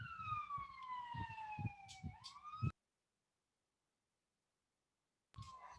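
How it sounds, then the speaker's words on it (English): An ambulance siren wails as it goes past, a sliding tone loud at first and then falling. The sound cuts out for a few seconds and resumes faintly near the end. "I'm going to pause for 1 second while this ambulance goes past."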